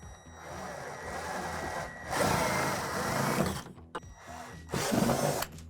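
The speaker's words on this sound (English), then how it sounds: "drill out 2 holes from underneath the deck" A power drill bores holes up through the underside of a plastic Lifetime Double Adventure Tower play deck, whirring in three loud bursts separated by brief pauses.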